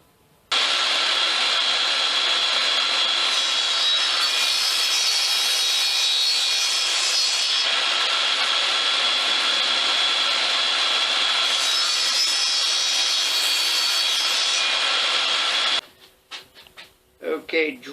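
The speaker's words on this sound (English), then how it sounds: "now we're going to cut 2 decorative slits in the bottom" A power saw cutting two freehand decorative slits into scrap lumber for a wooden Mjolnir hammer, one loud continuous whining cut lasting about fifteen seconds before stopping abruptly, followed by brief clattering handling noise.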